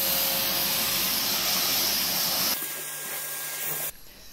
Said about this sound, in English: This is the little sander I got. It turned out to be really handy and super useful for all the flat surfaces.